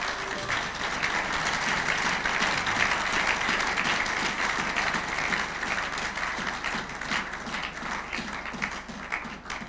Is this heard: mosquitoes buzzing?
no